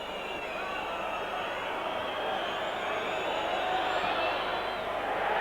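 A rugby league crowd at a 1992 Sheffield Eagles versus Oldham match cheers after a successful kick at goal, a broad steady roar from the stands lasting several seconds, with a commentator talking over it.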